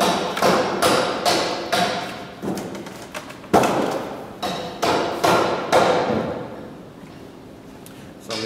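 Hand chisel striking a wooden cross beam to knock off small angled offcuts, heard as a run of sharp, close knocks and thuds in uneven bursts before quieting near the end.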